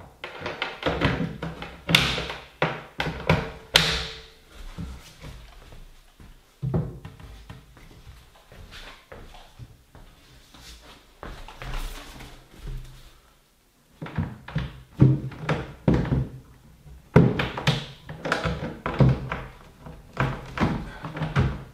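Cabinet doors are fitted onto a built-in alcove unit in a workshop, with irregular wooden taps, knocks and thuds at close range. Short bursts of handling noise are separated by quieter pauses, and occasional louder clunks sound like doors meeting the frame.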